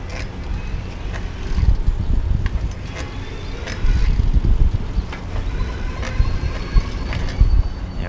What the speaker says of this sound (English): And I'm gonna start pedaling.